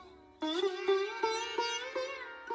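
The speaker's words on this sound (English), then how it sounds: "this is the veena, a beautiful string instrument known for its divine sound" Plucked veena strings ring out in a slow melodic phrase at a school annual function, each note attacked with a twang and sliding pitch, warm and close.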